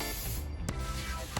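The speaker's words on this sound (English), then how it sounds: "So we're just going to keep spraying this." A cleaning product sprayed onto oversized lounge chair upholstery: a steady close hiss with two short, sharp spray bursts about half a second apart.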